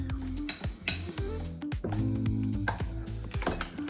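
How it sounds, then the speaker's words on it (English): Spoon and bowl clatter as cream cheese filling with garlic for crab rangoon is stirred by hand, with repeated knocks, scrapes and soft squishing in an uneven rhythm, close and moderately loud. "You gotta make sure all the cream cheese is mixed"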